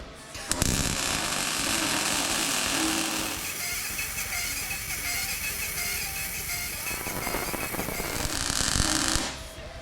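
MIG welding steel plate onto a Ford F150 cage, a steady loud crackling buzz close up that runs nearly ten seconds without a break, then stops abruptly.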